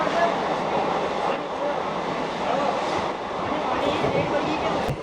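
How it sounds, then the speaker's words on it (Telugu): A Kacheguda–Nizamabad DEMU train runs on after leaving Vadiyaram station, a steady, loud rumble of the moving rail car holding throughout with no clear breaks. "వడియారం నుంచి మన ట్రైన్ బయలుదేరిపోయింది"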